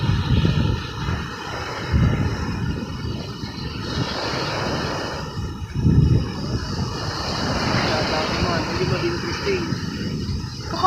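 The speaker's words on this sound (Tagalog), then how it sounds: "Malakas po ang hangin dito." Strong stormy wind blows outdoors by a hut during a typhoon, a loud continuous roar and buffeting across the microphone with surging gusts, while voices talk faintly beneath it.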